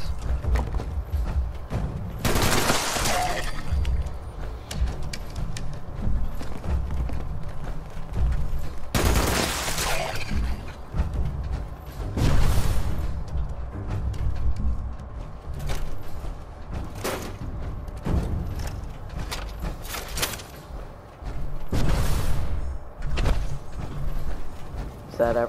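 A two-shot explosive .50 cal machine gun fires in a video game at ghouls, bursts of loud sharp shots hitting in irregular groups, with someone talking between them.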